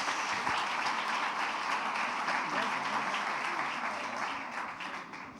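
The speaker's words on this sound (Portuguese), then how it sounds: "Vamos aplaudir Jesus." A church congregation at a Sunday celebration service applauds together, dense, loud sustained clapping from a large crowd that continues steadily and tapers slightly toward the end, with faint voices underneath.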